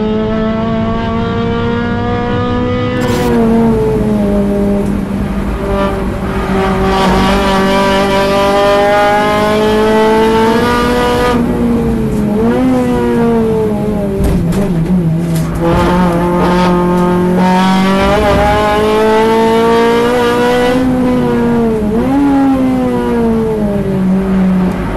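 A Class C club enduro race car on a track day, engine droning loud and steady with rising and falling revs through gear changes, tyres squealing intermittently through corners.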